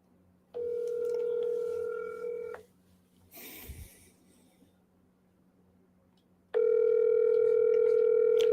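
A phone line on a cold call gives two long steady ringback tones, with a short burst of clicks and rustling in the gap between them.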